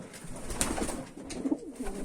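Soft, low pigeon coos repeat a few times at close range, faint against a quiet background with some light rustling.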